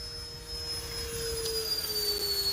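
A small electric motor on an RC P-47 Razorback model airplane whines steadily at full throttle, a high thin drone with a faint rising tone across a couple of seconds.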